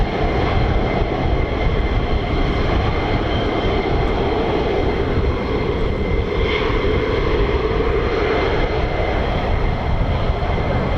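Two Pratt & Whitney F100-229 engines on an F-15 fighter jet at RAF Lakenheath produce a loud, continuous roar that stays unbroken for the full length.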